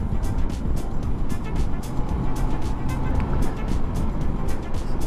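Honda Goldwing F6B motorcycle on the move along a winding road, with a steady broadband engine and road-wind rumble held at an even level and faint periodic ticks running beneath.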